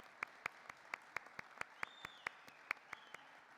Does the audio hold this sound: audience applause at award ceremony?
yes